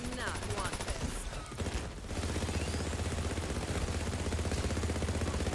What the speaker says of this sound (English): But you can fire with this thing all day long. I prefer the way the Faisor sounds.